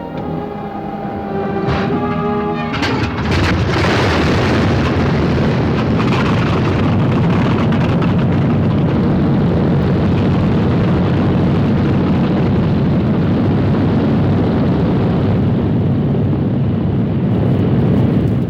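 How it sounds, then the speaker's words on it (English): World War II bomber aircraft engines roar in flight, a dense, loud, continuous drone that swells in after a few sharp opening bursts and holds steady throughout. "Only the roaring engine sound of the bombers pounding through the quiet English countryside."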